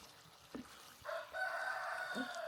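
A neighbor's chicken clucks and calls faintly in the background, a few short bursts followed by a longer sustained call, distant and low in level.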